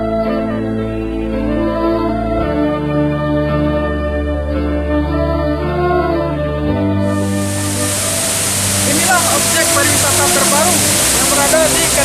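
Music plays, then the loud, rushing roar of Baburai waterfall in Sikucur, Padang Pariaman, Indonesia, swells in partway through and continues beneath the tune.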